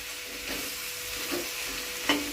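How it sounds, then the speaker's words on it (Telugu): A spicy cauliflower curry is stirred in a hot pan, giving a steady low sizzle with soft scraping strokes and a sharper clink near the end, no talk. "అంటే కారం కలవాలి కదా, మొత్తానికి కూర పట్టాలి కదా, సో అందుకని కలుపుతున్నా"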